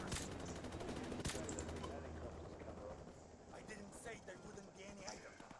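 Gunfire from an M21 sniper rifle in Call of Duty: Modern Warfare Remastered, with a few sharp shots early on over a dense, busy game mix of rumbling background noise.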